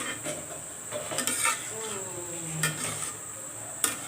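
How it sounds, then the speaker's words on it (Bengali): Spices and vegetables, including papaya and onion, are stirred in a frying pan, with a steady soft sizzle under scraping and light clinks of a utensil on metal, plus a few sharper knocks. "এখন ভালোভাবে নেড়ে চেড়ে নেওয়া হবে। সব মশলাগুলো মিক্সড করে নেওয়া হচ্ছে।"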